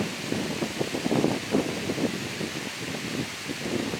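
Dry autumn leaves rattle in the wind outdoors in Jersey bayshore country, a steady broadband rustle with soft irregular crackling swells, no speech.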